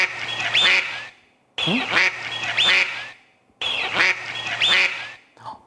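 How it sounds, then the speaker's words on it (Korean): Ducks hatched from eggs quack in three loud, close bursts of repeated calls separated by short silences, with a brief spoken syllable near the end. "꽥꽥 하고 우네요."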